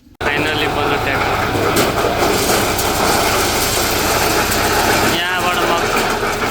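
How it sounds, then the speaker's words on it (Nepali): A tractor engine runs continuously after a sudden start, producing a loud, steady, close mechanical drone with a rough high whine that dips briefly near the end. "फाइनली बन्यो ट्र्याक्टर।"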